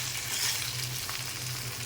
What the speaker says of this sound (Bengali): আলু আর মাছের কাটা একসাথে করে ভেজে নিতে হবে।